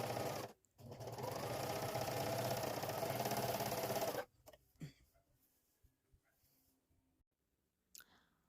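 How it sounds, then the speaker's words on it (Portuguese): An overlock sewing machine stitches the armhole seam of a shirt, running at a fast, loud, steady buzz for about three and a half seconds before stopping, followed by soft handling clicks and taps. "vou passar essa costura de overlock para poder ter um acabamento na cava da minha camisete"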